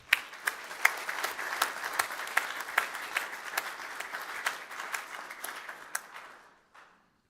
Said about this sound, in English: Please give them a round of applause for becoming lead dispatchers.